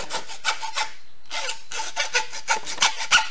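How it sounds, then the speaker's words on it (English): A hacksaw cuts relief lines into a highbanker spray bar, rapid rasping strokes in bursts with a short pause midway, close and clear with no talk. "take a hacksaw,"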